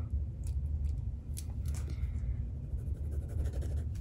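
Metallic pens are swatched on black paper, giving quick scratchy strokes and light taps close to the microphone over a steady low room hum.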